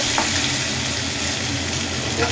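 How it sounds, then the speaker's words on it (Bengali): Mango pieces fry and get stirred in hot oil with panch phoron for a mango chutney, giving a steady, close, dense sizzle with faint stirring scrapes throughout. "এবার পাঁচফোড়নটা নাড়িয়ে চাড়িয়ে আম কাটাগুলো দিয়ে দিলাম।"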